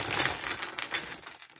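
Glass and seed beads spill from a bag onto a surface in a brief, faint, rattling clatter of many tiny pieces that trails off quickly.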